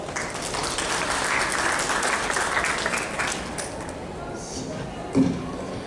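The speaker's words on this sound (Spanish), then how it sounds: "Un aplauso, por favor." Audience applause at a Spanish-language session on climate-change adaptation finance, a dense, steady wash of clapping for about five seconds that thins toward the end, with a brief louder knock near the close.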